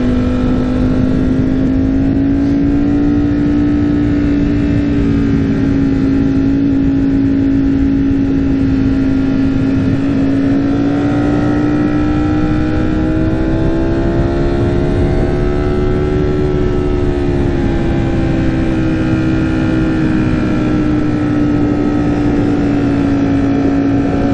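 A 2021 Ducati Streetfighter V4S motorcycle engine drones loud and steady at high revs while riding, its pitch rising and falling gently throughout, with heavy wind rush and no talking.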